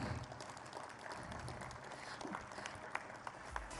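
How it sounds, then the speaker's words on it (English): Audience applause at a conference, a faint, dense wash of clapping from a large room held steady throughout, with a few sharper claps near the end. "a huge round of applause"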